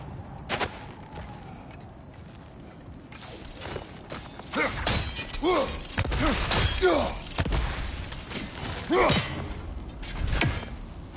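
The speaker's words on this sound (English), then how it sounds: "Back to smashing through things for fun and profit." Objects smash and shatter in God of War Ragnarok, a series of loud crunching breaks and thuds in irregular bursts, some close together, against a low rumbling game backdrop.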